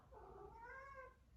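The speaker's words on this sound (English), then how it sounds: "that's my cat." A pet cat gives a single drawn-out meow, close and fairly loud, rising then falling over about a second in an indoor room.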